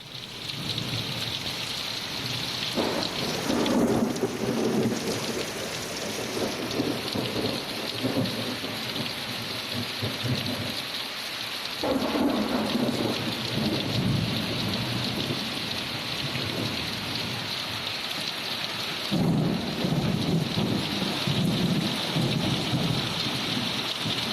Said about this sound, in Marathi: अचकीत आयिल्ल्या ह्या पावसाक लागून लोकांची मातशी धांदल जाली